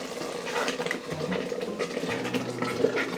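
A stew simmers and bubbles in a pot, a soft continuous gurgle of boiling liquid heard close and fairly quiet.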